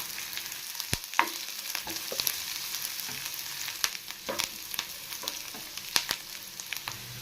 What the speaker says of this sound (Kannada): ಚಕ್ಕೆ ಲವಂಗ ಏಲಕ್ಕಿ ಸೇರಿಸ್ತಾ ಇದ್ದೀನಿ. ಶುಂಠಿ ಸೇರಿಸ್ತಾ ಇದ್ದೀನಿ.